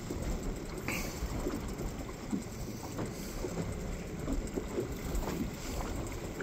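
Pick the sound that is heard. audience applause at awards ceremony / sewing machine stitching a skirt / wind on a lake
wind on a lake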